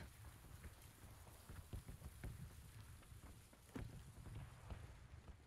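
Rain in a video game patters softly and steadily, a faint continuous hiss with scattered louder drops and gusts of wind, distant and low in level with no talking.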